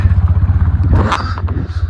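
Steady low engine drone from a TVS Apache 160 ridden two-up toward Pangong Lake in strong wind, with a short scraping clatter and gusty buffeting near the end.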